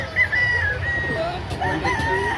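Gamecock rooster, a bull stag, crowing near a market in Lipa, Batangas, one long clear crow rising and holding over steady background bustle and distant farm fowl.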